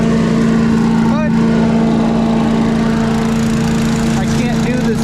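Steady, loud drone of a lawn tractor running with its mower deck engaged, a constant close engine hum that does not let up.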